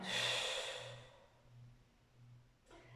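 An audible breath during a Pilates exercise, a soft airy exhale fading over about a second, followed by quiet and a brief intake of air near the end; no talking.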